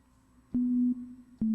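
Two plain electronic synth tones sound one after another in Ableton Live, steady and pure, each fading into a soft reverb tail.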